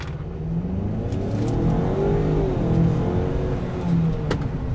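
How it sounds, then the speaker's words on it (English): The 2-liter engine of a 2023 Ford Maverick Tremor pickup accelerates hard, a loud, sustained rising engine drone with shifting pitch and steady road rumble, with no talk over it. "This 2-liter engine does 0 to 60 in 6 seconds."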